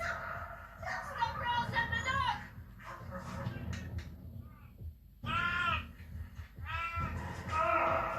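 Police dogs from a dog unit bark in bursts, several sharp, harsh barks coming in clusters with short gaps between them, fairly close and mixed with background noise.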